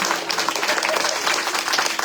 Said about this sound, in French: il faut applaudir très fort les musiciens qui sont avec moi